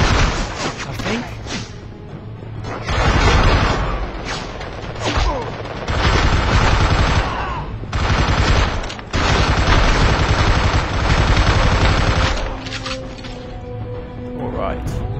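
Rifle gunfire in the action game SpyHunter: Nowhere to Run, with heavy, near-continuous bursts of shots and blasts that roar loudly through most of the stretch, briefly dropping out between volleys.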